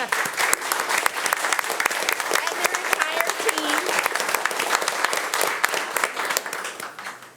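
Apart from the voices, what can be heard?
audience applause at a school board meeting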